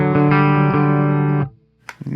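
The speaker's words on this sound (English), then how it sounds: "I'm gonna turn on some reverb and delay again, just to add to that ethereal-esque kind of sound" A sustained clean electric 7-string guitar chord with reverb and delay rings out with a shimmering, spacious tail, then cuts off briefly before a few picked notes return.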